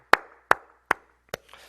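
A church congregation at a Korean dawn worship service claps together in four sharp, evenly spaced beats, crisp and close in a quiet room.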